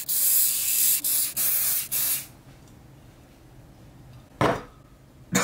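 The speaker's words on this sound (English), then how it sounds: "I'm gonna spray them with some crepe spray." Several short, loud aerosol sprays of shoe protector on sneakers hiss in quick succession, a quiet pause, then two more brief sprays close by.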